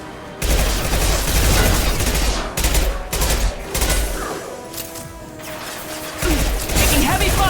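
Gunfire in the video game Mass Effect 2, loud rapid bursts of shots and impacts in repeated volleys with short pauses between, heavy and close throughout.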